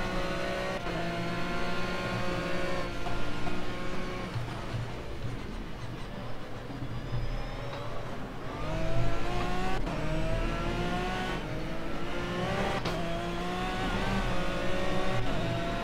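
An Aston Martin GT3 race car engine in Project CARS at Zhuhai at night, revving and climbing through gears with repeated rising whines and brief lifts, loud and continuous with no talk.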